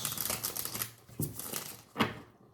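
Tarot cards are shuffled by hand in short crisp bursts, papery riffles and snaps with a couple of sharper accents, close and fairly quiet with no talking.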